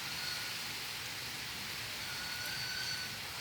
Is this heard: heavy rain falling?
yes